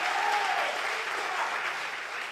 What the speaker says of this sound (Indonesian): Beri tepuk tangan dulu untuk Tuhan kita